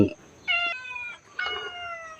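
A cat at a Buddhist temple in Lampang gives two drawn-out, tonal meows close to the microphone, with a short quiet pause between them.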